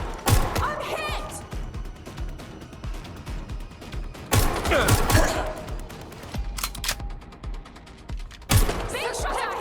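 Bursts of gunfire in the video game Watch Dogs Legion, rapid loud volleys and single shots scattered through the scene, with voices talking over the shooting.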